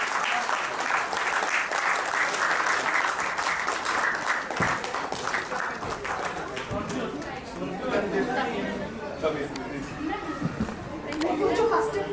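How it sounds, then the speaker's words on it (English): An audience at a school reunion claps for the organizers, with clapping and crowd chatter mixed together, talk and movement underneath, and the applause fading partway before a fresh burst near the end. "Give big round of applause to them."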